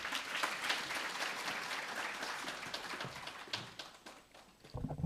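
An audience at a Free State primary school summit applauds steadily, a dense close burst of clapping that thins slightly toward the end before a final flurry.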